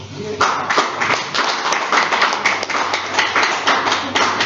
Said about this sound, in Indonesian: Kita kasih tepuk tangan tuh.